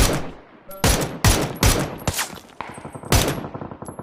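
MK12 rifle gunfire in PUBG comes as a rapid series of sharp, loud single shots in an uneven rhythm, roughly eight cracks with brief gaps between them.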